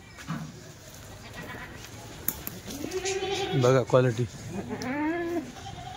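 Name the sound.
Kathiawadi goats and sheep bleating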